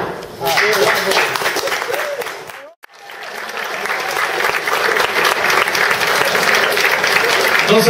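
An audience claps and cheers at a live show, loud and dense, with voices calling out over it; the applause cuts off abruptly near the three-second mark, then swells back up and keeps building.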